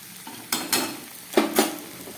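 A vegetarian cabbage dish fries in a pan as ground garam masala goes in, a low sizzle broken by two pairs of brisk stirring scrapes, heard close and with no voices.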